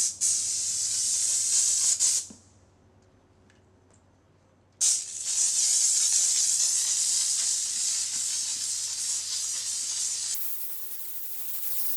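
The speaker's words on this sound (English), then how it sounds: "So we have our steamer." A steamer blasts hissing steam onto moldy van seats in two long, loud bursts separated by a quiet pause, then continues at a slightly lower level.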